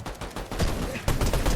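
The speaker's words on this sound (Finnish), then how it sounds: "Teitä ammutaan." Gunfire in a Fortnite match, a burst of rapid shots that grows louder and denser toward the end, with faint voices in the mix.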